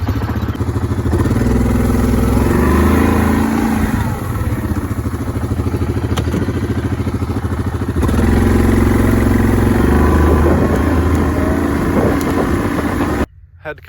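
A four-wheeler ATV engine runs steadily and loud from start to finish, with a rumbling, clattering drone and brief changes in pitch, then cuts off abruptly near the end.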